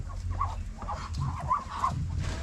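Guinea fowl calling on a farm: several harsh, repeated honking cries ring out in quick bursts over a steady low background rumble.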